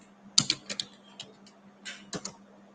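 Keys clack on a computer keyboard in a few quick clusters, near and fairly soft, with short pauses between bursts over a faint steady hum.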